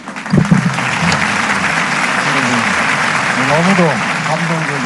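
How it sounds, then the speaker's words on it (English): Sustained audience applause for Ban Ki-moon, the 8th UN Secretary General, at a Universal Peace Federation rally, a dense steady clatter of many hands lasting throughout, with brief voices or tones surfacing over it. "Let us give another round of applause to His Excellency Ban Ki-moon, the 8th UN Secretary General."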